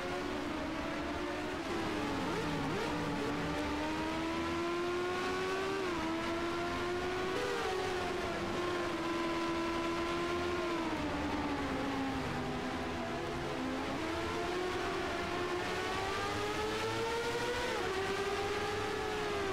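Race cars scream past at speed on the Mexico City Grand Prix circuit, a continuous high engine whine rising and falling with gear changes and passing cars, loud and steady with no talk over it.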